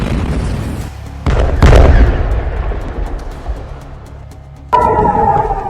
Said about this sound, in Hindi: ईरानी मिसाइलें आसमान में चमक रही हैं और बरस रही हैं।